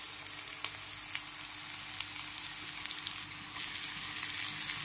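Onion frying in ghee with cumin and mustard seeds gives a steady, close sizzle with scattered crackles and pops, swelling slightly louder near the end, with no talking.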